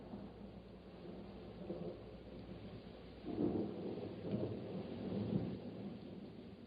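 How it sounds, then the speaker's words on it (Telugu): A thunderstorm rumbles low and fairly faint over a steady wash of rain, with a deeper roll of thunder swelling midway and no voices. "మన ముందు తుఫానుంది చూడు."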